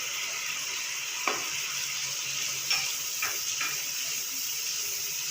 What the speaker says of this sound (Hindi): अब इस मसाले को भी अच्छी तरह भूनना है।